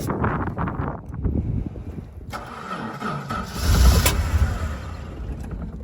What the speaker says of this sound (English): Runs pretty quiet, eh? Yeah. But not a bad little engine.